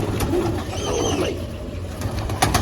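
Pigeons kept in pairs in a home loft coo near and steady, with soft low throaty calls running continuously through the whole stretch and no talk.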